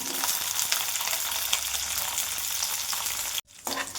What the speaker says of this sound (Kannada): ಇದೆಲ್ಲ ಫ್ರೈ ಮಾಡೋಣ